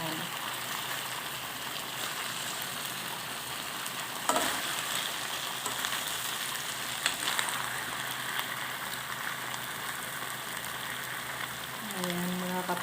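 Pork barbecue sizzles steadily in a frying pan, a dense crackling hiss at moderate level with a few sharper pops and a brief clink of utensils, and a voice speaks faintly near the end.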